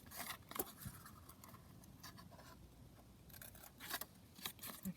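Scissors snipping through a paper craft tag decorated with a bird garden collage sheet, faint close-up cuts and rustling paper in a few quiet bursts.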